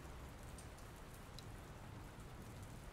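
Steady rain in the video game Dr. Langeskov, The Tiger, and The Terribly Cursed Emerald, a faint, even hiss of falling drops pattering on a surface with no voices.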